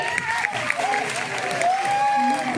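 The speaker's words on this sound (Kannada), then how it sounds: "ಕೃಷ್ಣಗಳಿಗೆ ಹಾಗೆ ರಾಧೆಗಳಿಗೆ ಒಂದು ಜೋರದ ಚಪ್ಪಾಳೆ ಬಲ್ಲಿ" Children dressed as Krishna and Radha get a round of applause, a dense steady clapping from a crowd with a few cheers and voices mixed in, continuing for the whole stretch.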